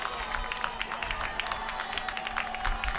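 A football stadium crowd at a college game between Mississippi College and West Florida keeps up a steady, dense roar of cheering and clapping, heard from a distance as a continuous wash with faint scattered claps.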